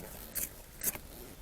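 Two short, quiet rasps of a zipper on a Jeep Wrangler soft-top side window close by, separated by a brief pause, over low background hiss.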